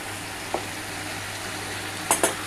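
Pumpkin greens cook in a covered pan with a steady, moderately loud sizzle and hiss, interrupted by a soft knock and then two quick clinks of utensil or lid near the end.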